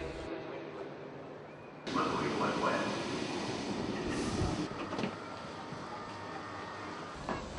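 A train rolls into a station with heavy low rumble and rising wheel noise that swells after the first couple of seconds and then holds steady, with faint crowd sounds mixed in.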